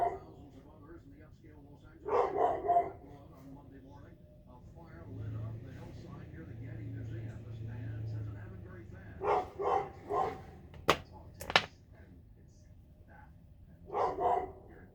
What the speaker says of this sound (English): I got two dogs in the pen that have probably never been in a pen in their life. That probably are not very happy.